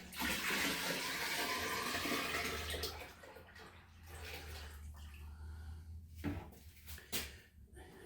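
Filtered water poured into a home-brewing vessel for an American porter, a loud rushing gush for about three seconds, then quieter splashing, sloshing and a few knocks of handling.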